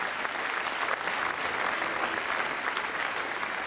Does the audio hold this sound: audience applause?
yes